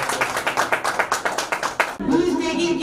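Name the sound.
applause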